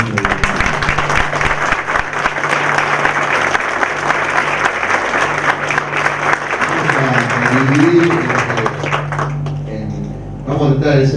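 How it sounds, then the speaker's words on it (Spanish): An audience at a union training session on collective bargaining gives a loud, sustained round of applause, dense clapping that holds steady for about nine seconds before fading, with a voice speaking over the end. "y para ellos un fuerte aplauso"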